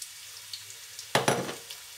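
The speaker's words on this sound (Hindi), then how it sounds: "अब साथ ही डाल दूंगी प्याज भी।" Chopped onions drop into hot oil in a pan for a chicken vegetable rice dish, setting off a short burst of close sizzling that rises sharply and then trails off over a quiet kitchen background.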